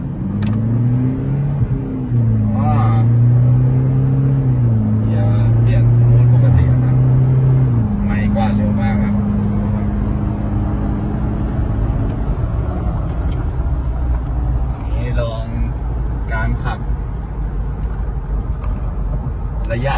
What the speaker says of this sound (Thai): เร่งแซงง่ายมากเลยครับแซงรถเนี่ยขึ้นคันเร่งครับ